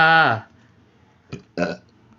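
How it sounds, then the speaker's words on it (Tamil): A loud, voiced burp bursts out at the start, followed by two shorter vocal bursts, heard up close during a Tamil gaming session. "என்ன ஏப்பம் இப்படி வருது"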